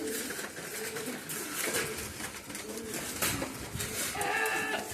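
French meat pigeons coo in a loft, several birds giving soft, rolling, throaty calls that overlap and repeat at close range over a continuous low background hum.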